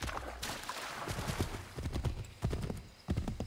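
A horse ridden at a steady gait in Assassin's Creed III clip-clops close by in an uneven rhythm, with a few louder hoofbeats standing out near the end and no talking.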